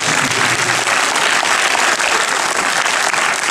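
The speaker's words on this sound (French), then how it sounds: "On peut l'applaudir très fort." Audience at a French film premiere applauding loudly, dense sustained clapping from a large crowd filling the whole moment, close and without speech.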